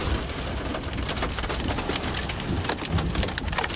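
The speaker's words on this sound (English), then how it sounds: "A massive downpour here." Heavy rain from a summer storm pours down steadily in Windsor, a dense, loud hiss of drops hitting surfaces, with no break in the downpour.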